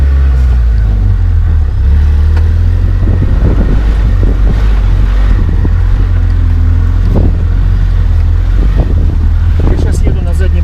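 A homemade off-road jeep rolls along in rear-wheel drive, its engine a heavy low rumble under wind buffeting and bumps, with a voice speaking intermittently.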